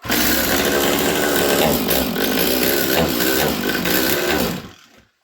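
A Stihl MS200T chainsaw runs loud and close with a rough, uneven engine note, holding for several seconds before quickly dying away.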